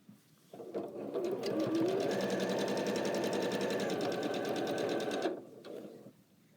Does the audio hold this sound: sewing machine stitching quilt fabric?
yes